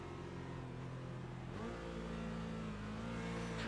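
A GT4 race car engine at Bathurst in a sim racing game drones loudly and steadily, dips briefly at a gear change and then holds a high sustained pitch, with no voices.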